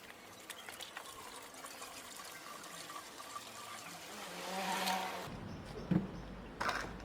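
Unleaded petrol poured into the fuel tank of a moped, a steady liquid trickle and fill building to a fuller gush before breaking off, with a few faint knocks at the end.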